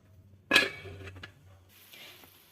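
A metal lid drops onto a pot of simmering rosogolla syrup with one sharp clank, followed by a few lighter rattles as it settles, then a faint steady hiss.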